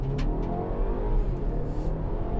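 Four-cylinder turbocharged 2021 BMW X1 crossover SUV accelerating hard, a steady loud engine drone with road rumble from inside the cabin.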